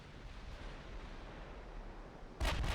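Battleship main guns firing in a naval battle from the Ultimate Admiral Dreadnoughts video game, a single sudden heavy boom that cuts in abruptly after a low, steady background rumble.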